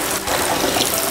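Rice being washed in water at a kitchen sink, with a steady rush of running water and splashing, close and fairly loud for about a second.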